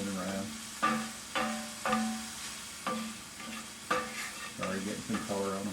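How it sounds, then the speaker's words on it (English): Onions sautéing in a pan, a soft sizzle with a handful of separate stirring strokes spaced about a second apart, quiet and close. "See my onions cooking away over here."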